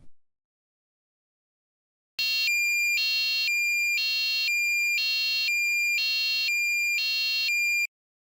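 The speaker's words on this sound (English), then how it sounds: "You can hear the tone changing every 500 milliseconds." A piezo buzzer driven by an STM32 microcontroller sounds after a short silence, emitting a loud electronic tone that steps between two pitches every half second for about six seconds, alone with no voices.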